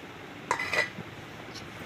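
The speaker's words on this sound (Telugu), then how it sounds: "మూత తీసుకొని" A lid comes off a pot of mutton curry with a brief metallic clink and a light scrape, close by, followed by quiet background noise.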